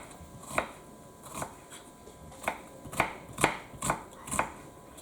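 A knife slices a white onion into thin slices on a cutting board, about eight or nine crisp, close chops in an uneven rhythm, each a sharp tap, with no talk.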